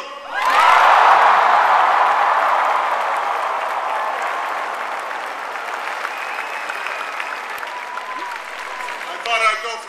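A large crowd at a university commencement claps and cheers, a loud burst with shouts and whoops at first that settles into sustained, gradually softening applause with scattered calls.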